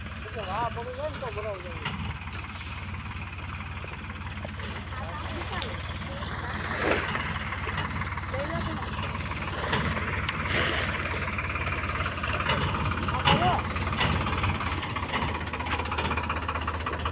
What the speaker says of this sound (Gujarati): આવે છે હવે ટ્રેક્ટર આવી રહ્યું છે